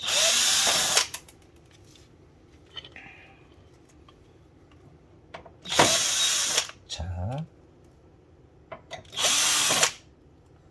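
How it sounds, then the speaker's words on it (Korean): A power screwdriver backs out screws from the power board of a Fuji Xerox DocuCentre V C5576 copier, three loud whirring bursts with quiet clicks and handling noises between them and a brief spoken word. "여기 나사 3개 있죠? 이 나사 제거하겠습니다. 파워보드에 연결되어 있는 나사"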